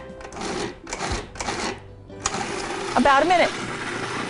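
A food processor with its lid on whirs steadily as ingredients for deviled eggs with hot Russian mustard are blended, with someone talking over the motor.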